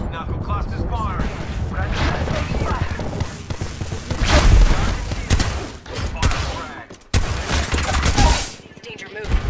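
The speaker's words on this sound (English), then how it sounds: "Stand back, knuckle cluster's firing." A knuckle cluster weapon firing in a first-person shooter video game, dense rapid explosive bursts and booms rolling loudly over several seconds, with a player's voice talking over the barrage.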